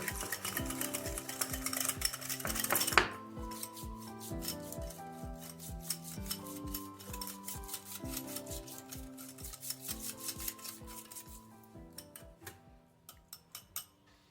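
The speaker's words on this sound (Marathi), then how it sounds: "दूध टाकायच्या आधी दही थोडं फेटून घेते" Curd is whisked briskly in a bowl for panchamrut. The fast, even strokes tick and scrape in a steady close rhythm that slows and thins out near the end, with no talking.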